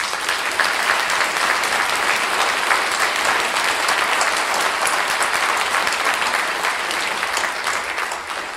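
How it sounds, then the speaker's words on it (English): An audience at a political candidate forum in Thousand Oaks, California, hosted by the League of Women Voters, gives a sustained round of applause, loud and dense clapping from many hands that holds steady before tapering slightly at the end. "They deserve a wonderful round of applause."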